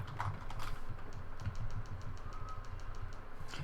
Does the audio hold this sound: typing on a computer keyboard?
yes